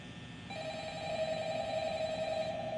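An in-game telephone in the Roblox Five Nights at Freddy's game starts ringing partway through, a sustained electronic tone that holds steadily at moderate loudness over faint background noise, with no talk.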